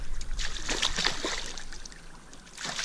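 A hooked traíra fish thrashes and splashes at the water's surface, a run of quick, close splashes and sloshes that fade toward the end, with a faint voice underneath.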